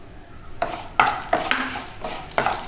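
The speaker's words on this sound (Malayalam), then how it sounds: "ഇപ്പോൾ ഈ മല്ലിയും കുരുമുളകൊക്കെ ഒന്ന് മൂത്ത് വന്നിട്ടുണ്ട്." Coriander seeds, black pepper and poppy seeds roast in a pan, with a soft sizzle and several sharp scraping stir strokes of a spoon against the metal, close and distinct, no talking.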